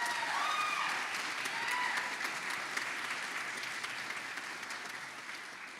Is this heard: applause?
yes